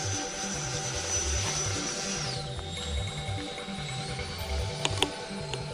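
A Horizon Hobby F-16 RC jet flying overhead, its steady turbine whine holding a high tone that drops in pitch partway through as it passes, moderately distant with no talking.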